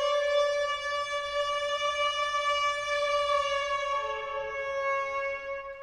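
Soprano saxophone played with a metal mouthpiece, holding a bright, buzzy, sustained tone that bends slightly lower toward the end; solo, with faint background hiss.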